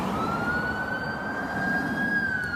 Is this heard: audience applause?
no